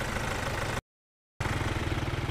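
The 2.0-litre diesel engine of a used Hyundai Santa Fe idles steadily at close range with a low, even rattling hum, interrupted briefly by a moment of silence.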